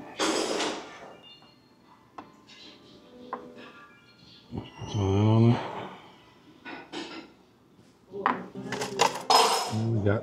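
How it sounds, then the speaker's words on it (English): Metal silverware rubbed and clinking on a lime and plate at a Vietnamese restaurant table, intermittent scrapes and clinks interspersed between stretches of nearby talk. "you rub your silverware on the lime"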